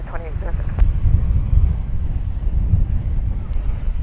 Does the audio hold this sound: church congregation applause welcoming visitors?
no